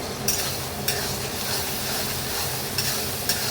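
Fried onion with freshly added garlic paste sizzles quietly in a pan, with a faint steady crackle and a few sharp spoon clicks against the pan at irregular intervals.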